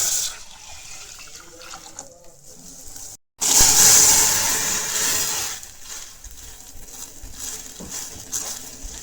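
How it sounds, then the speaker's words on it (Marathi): Water splashes and bubbles in a pot of boiling water as kneaded dough balls are dropped in for a Konkan coconut-milk dish, a sudden loud gush followed by a steady rolling boil that slowly settles. "आणि आता उकळत्या पाण्यात हे सोडायचे आहेत."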